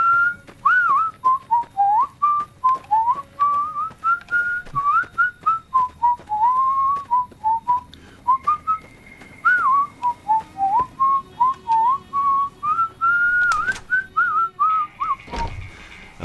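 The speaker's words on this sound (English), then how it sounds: "So I guess I'll whistle a song and go." A person whistles a lilting tune solo, the clear melody running steadily throughout with short breaths between phrases and no talking.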